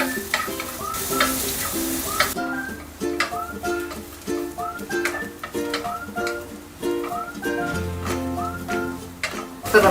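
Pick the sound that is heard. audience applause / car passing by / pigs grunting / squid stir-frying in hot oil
squid stir-frying in hot oil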